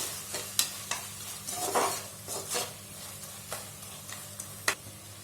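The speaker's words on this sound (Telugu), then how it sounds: "ఇలా వేసుకున్న తర్వాత ఒకసారి కలుపుకుందామండి" A spoon scrapes and stirs salt through a pot of plain white biryani rice water, with soft intermittent clinks and scrapes against the pot over a faint background hum.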